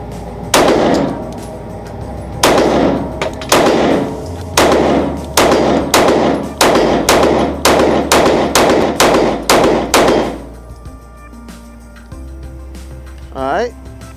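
A Taurus GX2 handgun fires about a dozen loud, sharp shots at a steady, slightly uneven pace, each with a brief ringing tail, then the firing stops and faint outdoor background remains.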